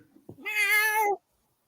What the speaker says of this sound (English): He's the one that makes all the weird meows.